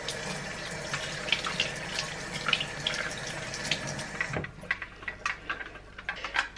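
Filter rinsed under a running kitchen tap, a steady close splashing stream of water that thins to lighter drips and trickles near the end.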